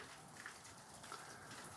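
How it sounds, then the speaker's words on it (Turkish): Rain falls steadily as a faint, even hiss with soft scattered patters, no voices. "Yağmur da şu anda yağıyor"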